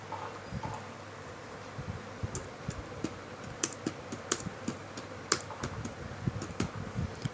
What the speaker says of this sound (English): For that I am going to type some text here.